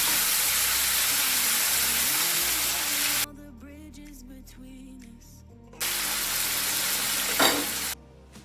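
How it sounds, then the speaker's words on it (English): Ackee and saltfish sizzling steadily in a pan for Jamaica's national dish, a close, continuous frying hiss that drops away briefly in the middle before the bright sizzle returns. "So guys, here I'm frying this."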